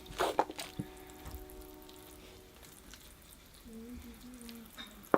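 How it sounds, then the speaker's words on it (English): Water drains from the drainage holes of a freshly watered bonsai pot, with faint drips and soft splashes scattered across a quiet room and a few brief tones near the end. "it's running out the drainage holes nicely"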